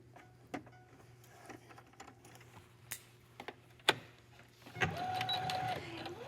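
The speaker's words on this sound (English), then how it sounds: "I'm going to run this through the sewing machine" A sewing machine stitches a straight seam on a back vent. A few light clicks and handling taps come first, then the motor starts and runs as a steady, moderately loud whir through the end, with no talking.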